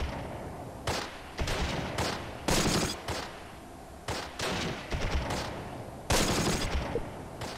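Rapid machine-gun bursts and scattered rifle shots in a WWII strategy video game battle, loud and close, crackling in several sharp volleys with brief gaps of lower battlefield noise between them.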